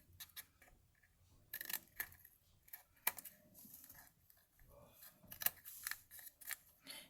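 Scissors snip paper pieces for a barn ornament in a quiet room, with soft, irregular cutting clicks and rustles, some sharper snips standing out, and faint speech now and then.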